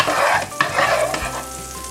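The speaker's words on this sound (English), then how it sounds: "Use butter in the frying pan. You don't want it too hot that it burns the butter. You just want it just so it sizzles a little bit." Butter sizzling gently in a frying pan before pancake batter goes in, with a steady crackling hiss and a few soft stirring scrapes, close and alone.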